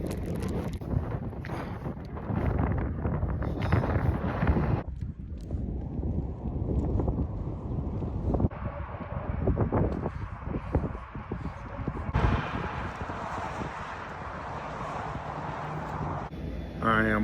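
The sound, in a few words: strong wind blowing against a bike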